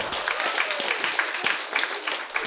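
A comedy improv crowd applauds a volunteer named Dmitry, a close, continuous wash of hand claps with a few sharper individual claps and faint voices underneath.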